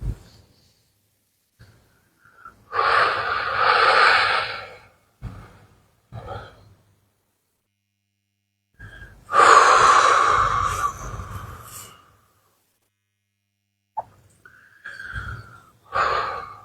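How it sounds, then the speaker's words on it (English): Slow, deep breaths during a guided meditation: a few long airy inhales and exhales, each lasting a second or two and separated by quiet pauses, plus some shorter breathy sounds, close and soft, with no talk. "So just breathing gently"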